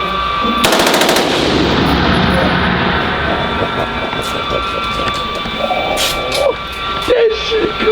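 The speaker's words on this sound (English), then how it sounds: "He finna shoot fully auto." Fully automatic gunfire at a gun range: a long, loud, rapid burst of shots near the start, followed by ringing range ambience with scattered distant shots and faint voices.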